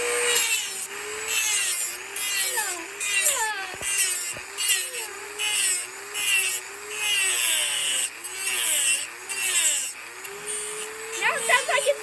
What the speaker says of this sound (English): What's the Dremel sound like, Kaylin?